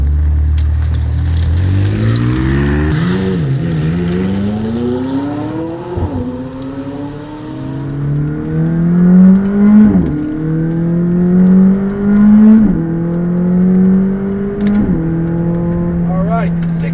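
McLaren 600LT Coupe in sport mode pulling away, its engine rising through repeated upshifts in a steady climbing pattern, loud and close with a strong low drone throughout.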